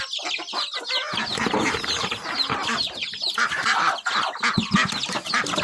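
Chickens and ducks at a rural farmhouse in the dry season cluck and squawk continuously, close by and fairly loud, with overlapping calls and no talk.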